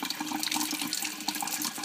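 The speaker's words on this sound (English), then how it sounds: "So we're going to rinse these off." Water tap running steadily while steel knife test samples of 14C28N are rinsed off, a close, continuous splashing stream with no voices.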